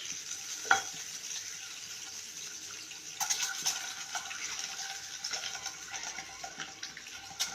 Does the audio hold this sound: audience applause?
no